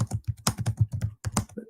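Rapid computer keyboard typing, a close, loud burst of about a dozen quick clacking keystrokes in an uneven rhythm, heard alone with no talk.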